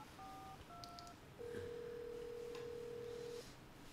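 Touch-tone dialing on a telephone in Resident Evil 7: a few short dual-tone beeps followed by a long steady tone, faint and clean with no talk over it.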